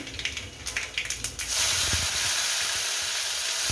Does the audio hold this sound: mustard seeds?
yes